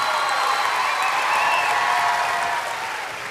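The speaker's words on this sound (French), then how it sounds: "Et je pense qu'on peut l'applaudir à elle aussi." Studio audience applauding on a French TV variety show, a dense, steady wash of clapping filling the room, loud and close, tapering slightly toward the end.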